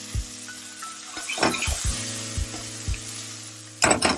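Black olives fry in a pan for puttanesca, giving a steady sizzle. Intermittent clinks and stirring scrapes of a utensil against the pan sound close by.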